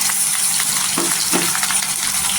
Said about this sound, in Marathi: आणि छान अशी तेलावर आहे ना परतून घ्यायचा